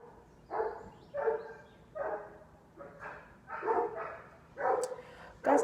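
A dog barks repeatedly in a steady rhythm, about one bark every second, fairly close and loud against a quiet indoor background.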